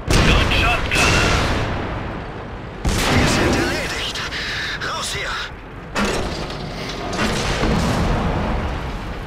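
88mm tank cannon fire in World of Tanks during a company battle, three heavy booming blasts spaced a few seconds apart, each with a long rumbling tail, with voices talking over the gunfire.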